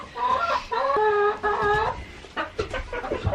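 A broody hen clucks close up, a run of short, strained, insistent calls followed by softer broken clucks.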